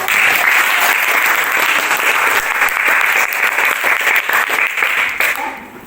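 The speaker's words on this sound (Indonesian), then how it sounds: "Ayo kasih tepuk tangan." Loud, steady applause from a crowd, dense clapping sustained throughout and tapering slightly at the end.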